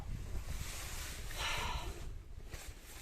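Strong wind blows across open water around a fishing boat, a continuous roaring rush with buffeting gusts and wind noise on the microphone, with faint lapping water underneath.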